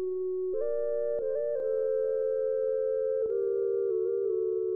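A smooth sine-wave lead synthesizer plays a simple melody of sustained pure tones that step between a few pitches over a soft low line in a hip-hop beat, clean and steady at moderate volume.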